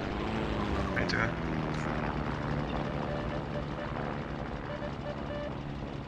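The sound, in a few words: aircraft flying in a war video game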